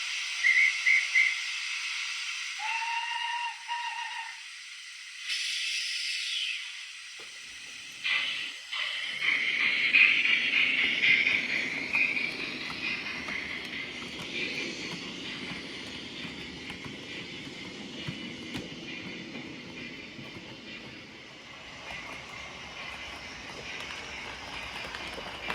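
An OO gauge model locomotive hauling Genesis coaches in GNR teak livery pulls away, a rising mechanical whirr and rumble that builds and runs steadily near the track, with no talk.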